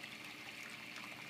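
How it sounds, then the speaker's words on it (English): A small, noisy waterfall trickles steadily inside a chameleon enclosure, a continuous soft splashing and dribbling with no voices. "And then we have a really noisy waterfall"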